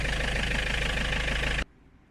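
Fiat Ducato van engine idling while warming up for an oil change, a loud, steady, dense diesel rumble that cuts off abruptly near the end, leaving quiet.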